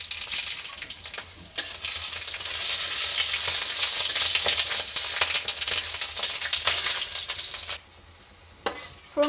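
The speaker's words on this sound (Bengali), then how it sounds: "ফোড়নটা ভাজা ভাজা হয়ে গেছে," Whole mustard seeds and asafoetida tempering in hot oil for dhokla, a loud, steady sizzle with scattered crackles and pops, easing off near the end before a few sharp spatters.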